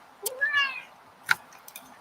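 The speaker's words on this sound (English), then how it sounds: "That was my cat, Scout." A pet cat named Scout lets out a single short meow at close range, followed by a faint click and a brief second chirp, with the room otherwise quiet.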